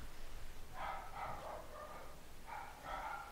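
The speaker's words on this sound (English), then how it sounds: "The dogs are going crazy." Several dogs bark at a delivery arriving at a house, sounding in two quick clusters of yaps and woofs with a pause between, close by and fairly loud over a quiet room.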